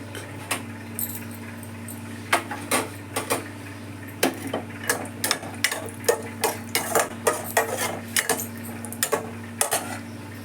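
Cashews fry in ghee and oil in a pan while a metal spatula stirs them, giving sharp clinks and scrapes in an uneven rhythm over a steady low hum.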